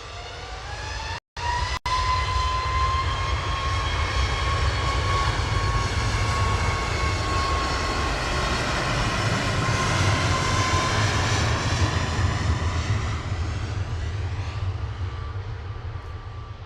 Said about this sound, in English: it's that Jet2 at the back that we're waiting for